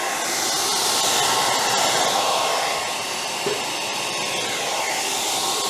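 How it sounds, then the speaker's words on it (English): A handheld blow dryer runs steadily close by, used to warm double-sided tape while fitting window visors on a 1997 Honda Civic hatchback, its loud, even whooshing roar continuing alone throughout. "get this blow dryer here hooked up"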